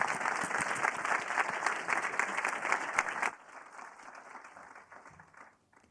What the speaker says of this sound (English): Please give my panelists a round of applause.